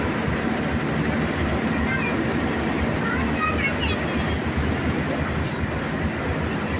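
Nilsagar Express train pulling into Kamalapur railway station, a loud continuous rumble and rattle of wagons filling the whole stretch, with a faint squeal near the end and people talking nearby.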